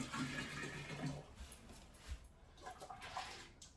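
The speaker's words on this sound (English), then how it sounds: "So I'm going to add 4 of these to it of the boiling water." Boiling water pours and splashes steadily into a beer fermenter for a few seconds, a soft rushing liquid sound with no talking.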